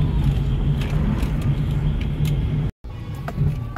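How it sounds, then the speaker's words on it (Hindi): A car crawls along a rough off-road track with its underside scraping, giving steady close engine and road rumble broken by scattered knocks and scrapes, with a brief cut near the end. "आवाज आई गाड़ी के नीचे से, बहुत गंदी तरह से आवाज आई"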